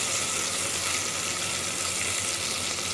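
Garlic cloves sizzle and fry with browned onion in a pan for okra and meat stew, a steady, dense crackle filling the whole stretch with no talk.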